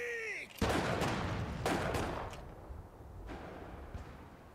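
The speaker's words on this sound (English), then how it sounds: "What the hell are they shooting at?" Gunfire in the action game Nioh: a cluster of sharp shots, the loudest near the start, then a few fainter scattered reports trailing off over several seconds.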